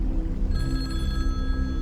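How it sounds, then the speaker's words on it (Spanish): An old telephone rings at night, a steady, bright metallic bell tone sounding continuously over a low rumbling background, fairly close and clear; no one speaks. "en eso, al par de 2 minutos, volvió a sonar el teléfono"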